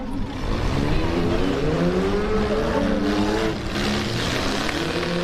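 Demolition derby autocross cars race side by side, engines roaring and revving in a loud, steady drone with shifting pitch, heard without talk.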